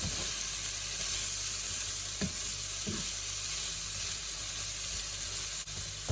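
Green and yellow peppers with onions fry in a pan, sending up a steady, even sizzle with faint stirring knocks and no talk over it.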